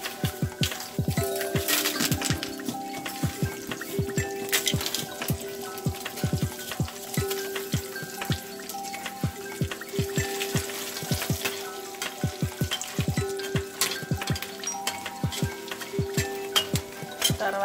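Green chillies sizzle and crackle in hot oil in a pan, with steady frying hiss and frequent sharp pops and ticks of a spoon or utensil throughout.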